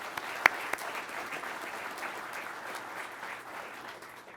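Steady audience applause fills a pilot training graduation ceremony at Vance, a broad wash of many hands clapping at even strength from start to finish, with one sharp louder clap standing out near the start.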